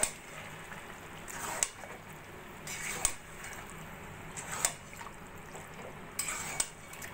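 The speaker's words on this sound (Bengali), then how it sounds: "এবার চিকেনটাকে ভালো করে পেঁয়াজের সঙ্গে মিশিয়ে নিয়ে কষিয়ে নেব।" Marinated chicken being stirred with onions in a pan, soft sizzling beneath repeated sharp utensil scrapes and taps against the pan at a slow, irregular rhythm.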